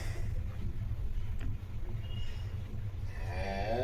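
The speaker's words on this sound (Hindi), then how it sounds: "यहाँ रहना मतलब गाय का ही आवाज़ सुनते नहीं रहा" Cattle kept just outside a house give a long, low moo that continues over the whole stretch, close and fairly steady, with some wind rumble mixed in and no voices.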